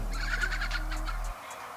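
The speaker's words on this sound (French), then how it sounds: "Les poules trouvent ça très comique." Hens cluck in a quick run of short, throaty calls close by, then fall quiet against a low hum.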